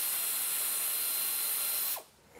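Power tool, likely an impact driver, loosening the factory tailpipe clamp on a Dodge Ram 1500 exhaust, a steady close whir for about two seconds that cuts off abruptly.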